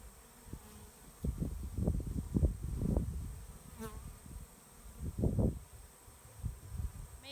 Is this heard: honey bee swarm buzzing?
yes